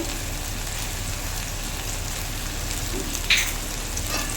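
Drumstick stem curry with turmeric and salt cooks in a pan with a constant dense sizzle like rain on a surface, close and fairly loud, with a brief scrape of stirring near the end and no voices.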